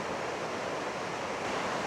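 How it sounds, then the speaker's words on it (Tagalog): A waterfall on a park observation route in northern Taiwan rushes with a steady, loud, broadband roar, constant throughout with no talk. "So, naririnig mo rin naman. Waterfalls."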